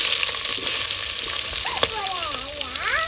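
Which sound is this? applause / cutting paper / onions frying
onions frying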